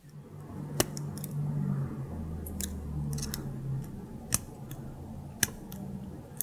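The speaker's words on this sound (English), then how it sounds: "Take our wire cutters and cut off just a little bit here so that we can tuck it in." Sharp snips from wire cutters trimming a short tail of jewelry wire on a wire-wrapped hinge butterfly pendant, several crisp isolated clicks spread over a steady low background hum.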